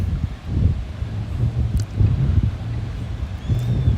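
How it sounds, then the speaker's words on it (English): Wind gusting by the water at Sodus Point, buffeting the microphone in loud, uneven rumbling bursts that rise and fall across a few seconds. "Sorry if it's a little windy."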